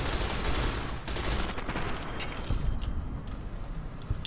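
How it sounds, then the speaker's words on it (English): Machine gun fire in Fallout New Vegas, a dense, loud stream of rapid shots with bursts and gaps, heard alone. "And this is why I brought along the machine gun."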